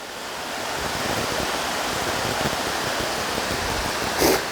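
Rushing water pours steadily from a small waterfall, a continuous close hiss and splash with a brief brighter splash near the end.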